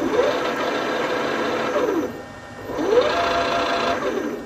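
Fan motor driven by a 4 kW frequency inverter at 230 V, with a loud close whine that sweeps up and down in pitch as the speed changes, dips briefly, then ramps back up.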